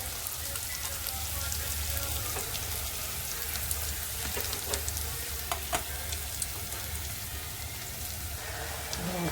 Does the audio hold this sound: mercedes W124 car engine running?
no